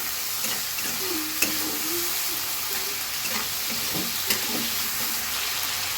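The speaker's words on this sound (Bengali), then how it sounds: "সব মশলা খুব ভালো মতন কষিয়ে নিতে হবে" Spices with green chilies stir-fried in a pan for an egg and potato dal, a steady sizzle under repeated scraping stirs and occasional sharp clinks, close and alone without speech.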